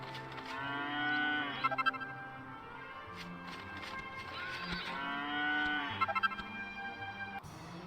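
Cows in the Dragon Quest 8 video game give two long, drawn-out moos a few seconds apart, clear and fairly close over a soft game soundscape, with no talking.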